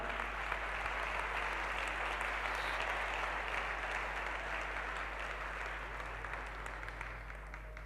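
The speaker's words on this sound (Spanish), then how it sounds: "¿Les puedo pedir un aplauso muy fuerte para Leslie y Gaby?" Steady, even applause from a large audience at a marketing and branding conference in Bolivia, a continuous wash of clapping that holds for about eight seconds at moderate distance over a low hum.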